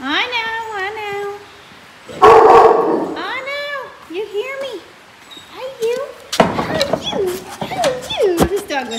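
A dog at an animal shelter barks and yips in several loud bursts mixed with whiny, meow-like vocal cries, close by, while a person talks over it.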